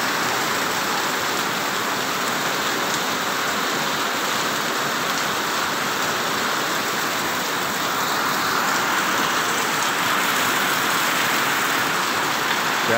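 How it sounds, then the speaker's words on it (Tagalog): Heavy rain pouring down steadily outdoors, a dense, constant hiss and patter close by, loud and unbroken for the whole stretch with no voices over it. "Ang lakas ng ulan, mga lods."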